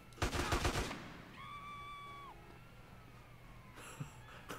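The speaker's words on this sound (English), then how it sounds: "The nurses are shooting me now." Gunfire from nurses shooting in GTA: San Andreas – The Definitive Edition, a quick rattling burst at the start followed by a tonal in-game sweep and another short burst near the end, with no talking.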